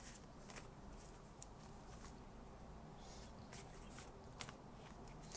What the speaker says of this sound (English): I'm just going to give the cards a bit of a shuffle